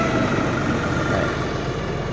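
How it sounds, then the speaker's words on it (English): Diesel engine of an LS XR4145C compact tractor running at a steady idle, a dense continuous low rumble heard close up with no one talking. "So let me get it started up here. Might be a little loud."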